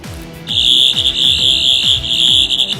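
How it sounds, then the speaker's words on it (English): A Tenth Doctor sonic screwdriver replica toy fitted with an 11th Doctor sound chip emits a loud, sustained high-pitched electronic whine over a pulsing, warbling lower tone, close and alone. "It seems to have the 11th Doctor's sound chip from the character options toys"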